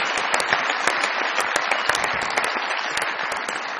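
Studio audience applause welcoming a contest winner on a Pakistani comedy show, brisk dense clapping with a few sharper individual claps standing out, steady and loud for a few seconds.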